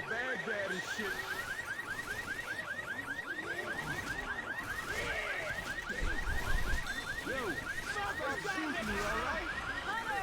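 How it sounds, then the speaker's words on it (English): An alarm in a Left 4 Dead style versus match goes off with a rapid repeating electronic whoop that continues steadily throughout, amid game noise and a brief low rumble midway. "Oh, they set off the alarm."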